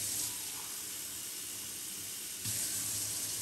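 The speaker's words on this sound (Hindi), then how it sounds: "चार गिलास हमने इसमें पानी डाला है इसको उबालने के लिए" Water pours steadily into a pot with a continuous rushing hiss, pausing briefly before a second pour resumes.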